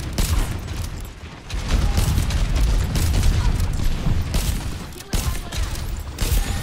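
Gunfire in an Overwatch 2 competitive match played as Ana, a rapid run of sharp shots and bursts in close succession, loud, with a brief lull partway through.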